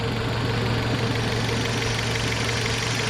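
A Citroen C4 engine idles steadily after repair, a close, continuous hum with a low, even rumble and no whistle, with no talking over it.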